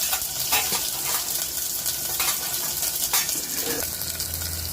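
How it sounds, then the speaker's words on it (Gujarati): Capsicum, cabbage and carrot being stirred in a pan for a biryani, a steady sizzle with repeated scraping and clinks of a utensil against the pan, close and clear. "શિમલા મરચાં એડ કરવાના છે અને બે મિનિટ આપણે તેને હલાવવાનું છે"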